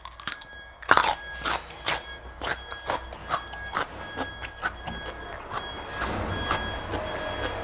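Crisp bites into a crunchy organic cucumber, followed by close, loud crunching and chewing in an irregular rhythm of sharp snaps throughout.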